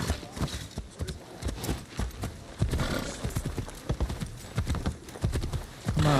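Horse hooves clip-clop steadily and close by as a mount trots in the video game Assassin's Creed Shadows, a continuous even rhythm of hoof falls throughout.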